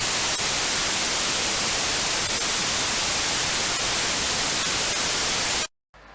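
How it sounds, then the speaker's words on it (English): A synthesizer plays steady, harsh white noise that hisses across the whole spectrum at constant loudness, then cuts out abruptly near the end before a brief quieter return. "Yep, that's white noise. Sounds horrendous."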